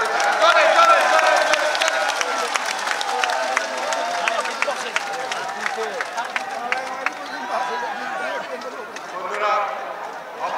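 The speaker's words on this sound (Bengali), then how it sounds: "পতাকা উড়িয়েছেন তার জন্য একটা হাততালি দেন, হাততালি দেন" A large outdoor crowd at a BNP divisional political rally in Rajshahi claps steadily in a dense, sustained wash of applause, with a speaker's amplified voice over the top.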